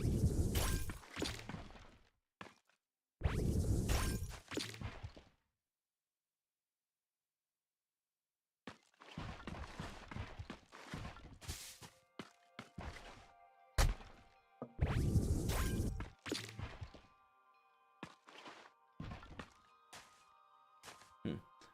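A granite block breaking in a video game makes sharp shattering cracks in several separate bursts, with a silent gap partway through and clicky interface sounds afterward.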